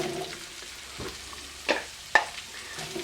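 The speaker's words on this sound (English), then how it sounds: "And then we are going to add the onions." Onions sizzle faintly in a hot pan with basil and aromatics for an Italian sausage dish, under a soft steady hiss with two sharp utensil clatters partway through.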